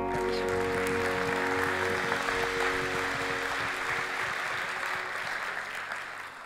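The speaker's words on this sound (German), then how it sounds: "Es gibt für einen Prediger nichts Schöneres, als wenn die Leute vorher klatschen" A church audience applauds a preacher, sustained dense clapping from a large crowd in a reverberant hall that slowly thins toward the end, with a low tonal hum underneath.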